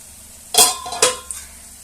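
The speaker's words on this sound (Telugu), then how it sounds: "ఈ ఎగ్స్ అన్నిటిని ఒకసారి ఇలా కలుపుకుందాము" Eggs being stirred and mixed in a frying pan with onions and tamarind leaves, two quick loud scrapes of a utensil against the pan over a low sizzle, then a lighter tap, close by.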